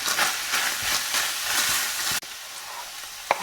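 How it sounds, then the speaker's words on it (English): Onions frying with ground meat in a hot pan and being stirred, a loud continuous sizzle with scraping strokes and a brief break partway through. "Onion and garlic cook well for a few minutes with the meat."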